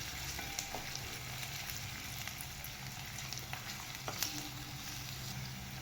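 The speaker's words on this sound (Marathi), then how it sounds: "कांदा पण जास्त भाजायचा नाही आपल्याला, एकदम खरपूस भाजायचं नाही" Onions fry in a pan for a dhaba-style cashew masala, making a steady, faint, even sizzle throughout with a few light ticks from stirring and no talking.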